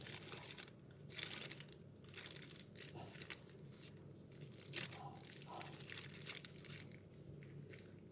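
A plastic bag crinkles and rustles in irregular bursts as its opening is pulled closed, fairly close and soft, with no speech in between.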